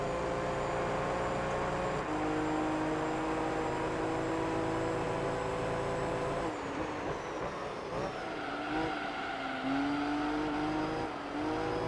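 A race car engine in Gran Turismo 3 drones steadily at high revs, with pitch dips and rises as it shifts and climbs a hill onto a straight, loud and continuous with no talk.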